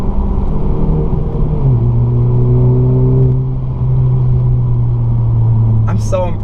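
A loud, throaty 2018 Honda Civic Si engine with a muffler delete drones steadily, its deep exhaust note shifting pitch as it revs, close and sustained.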